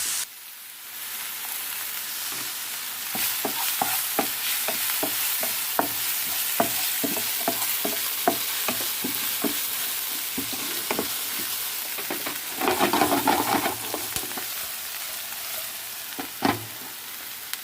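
Sliced onions sizzling in a pan as they fry, with dried curry leaves added and stirred through, steady frying hiss broken by repeated scraping strokes of the spoon, close and alone.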